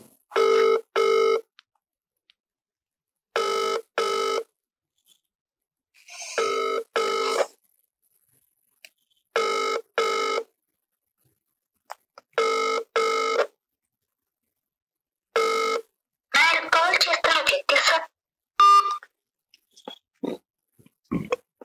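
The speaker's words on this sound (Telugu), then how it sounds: "ఫోన్ రింగ్ అవుతాను" A telephone ringing on an outgoing call, eight evenly spaced double rings with silence between, clear and close, followed by a brief rustle of handling noise near the end.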